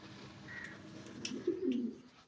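Danish pigeons coo softly in a cage, a low rolling coo rising near the end with faint chirps above, close and quiet with no talking.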